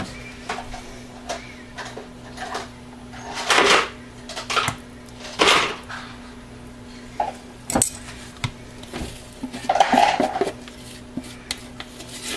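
A utensil stirs soap batter in a pot, giving irregular clinks and scraping knocks against the metal, some louder than others, with quiet pauses between strokes.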